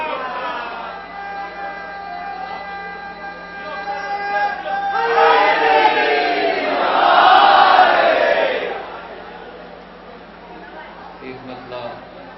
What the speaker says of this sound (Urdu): نعرے صلوات سے آپ استقبال کریں اپنے مہمان شاعر جناب سلیم بلرام.